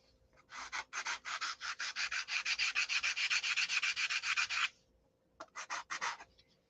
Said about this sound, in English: Sanding block is just a piece of 3/8 balsa glued into a T.